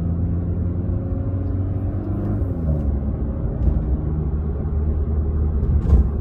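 A Toyota Supra with a four-cylinder engine in sport mode rumbles at low revs as it downshifts, a steady, close, throaty drone with a sharp exhaust pop near the end.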